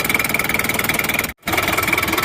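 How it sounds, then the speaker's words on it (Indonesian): A Daihatsu Rocky engine with no thermostat, lacking power and blowing black exhaust smoke, idles close by with an even rhythmic pulse, briefly cutting out to near silence before resuming. "Untuk suara mesinnya itu seperti ini."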